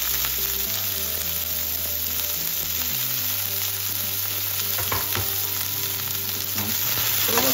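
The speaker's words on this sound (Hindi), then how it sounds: "थोड़ा फ्राई करेंगे, हल्का सा लाइट ब्राउन करेंगे।" Onion, ginger and chili sizzle in hot oil with cumin in a pan, a loud, steady, close frying hiss with occasional stirring scrapes and no talking.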